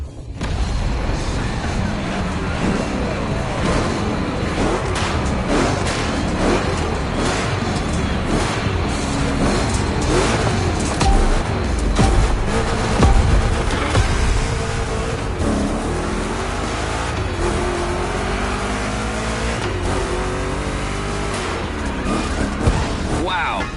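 Chevrolet 3100 Big Block pickup racing through rough turns in The Crew Motorfest gymkhana event, its engine roaring and revving continuously with tire skids and impacts, loud throughout, with a voice talking over it.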